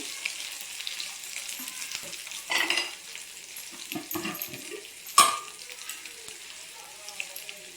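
Garlic frying in a pan, added while cooking ponaganti leaf and toor dal curry, makes a faint crackling sizzle with a couple of louder stirring scrapes and clatters, close and alone.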